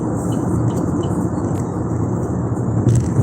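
Steady road traffic rumbles continuously from inside a moving car on a tropical road trip, a low engine and tyre drone with faint passing swells.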